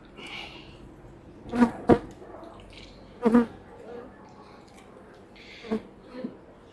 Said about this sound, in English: There's a lot of bees in here for a drone layer though